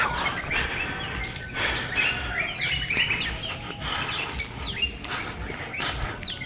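Birds chirping in a leafy residential garden in Kampala's Mbuya Hill, scattered short calls rising over steady outdoor background noise, moderately near and fairly faint.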